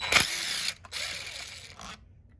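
Small cordless impact driver backing screws out of a Stihl MS441 chainsaw during teardown: a close, loud burst of rapid mechanical rattling, a short pause, then a longer whirring, ratcheting run that stops abruptly into quiet.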